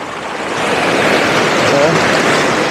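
Ocean waves on a beach in Phuket, Thailand, a steady hissing wash of surf that builds in the first half-second and then holds close and loud, with some wind buffeting the microphone.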